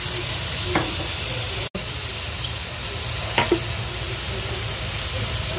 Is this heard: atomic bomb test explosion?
no